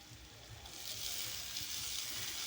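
Frozen peas hit frying onions in a pan and set off a soft, steady sizzle that swells slightly and holds, fairly quiet and close.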